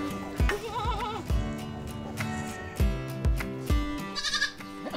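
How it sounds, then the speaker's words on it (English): Baby goats bleat in a series of short, wavering cries, several overlapping close by on a farm, with a few soft thumps and background noise between calls. "Wow, baby goat."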